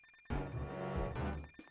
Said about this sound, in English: Sounds like someone's Nokia cell phone is going off right now